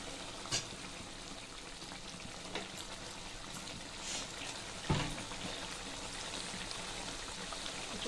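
Mustard oil poured in a swirl over a pan of posto with potol, a soft steady hiss and light sizzling throughout with a few small clicks and taps, no talking.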